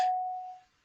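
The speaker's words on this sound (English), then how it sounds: "then that was my doorbell" A doorbell sounds a single clear ding that rings out and fades within a second, close and distinct with no voices over it.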